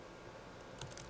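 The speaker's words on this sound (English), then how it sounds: "I'm going to go ahead and clear that space out and type Oneil" Keys tapped on a Motorola MC75 handheld keypad, a few soft quick clicks close by at low volume, with no talking.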